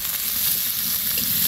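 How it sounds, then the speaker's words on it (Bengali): Onions frying in hot oil for a village-style Bangla fish curry, a steady dense sizzle that holds close and even throughout with no talk. "যে পেঁয়াজগুলো ভেজে রাখবো, এইগুলো আপনারা অবশ্যই ভেজে রাখবেন।"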